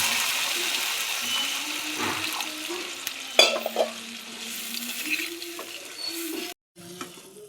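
Water is poured into a pan of spiced vegetables and stirred, a hissing pour and bubbling simmer with a rising tonal whine, utensil knocks and a brief clatter, close and fairly loud.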